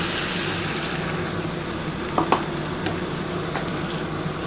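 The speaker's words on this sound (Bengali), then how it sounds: "এবার আমি কিন্তু জল দিয়ে দিচ্ছি, আমি যে মশলার জলটা আছে সেই জলটা দিয়ে দিলাম" Spiced water poured into a hot pan of mustard-poppy-seed pomfret curry: steady, dense sizzling and bubbling fills the whole stretch, with a couple of sharp clinks of a spoon against the pan midway.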